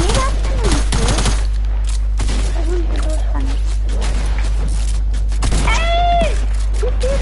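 Revolver shots in the Fortnite video game, a few sharp bursts spread through the clip, heard over steady game noise while people talk in German.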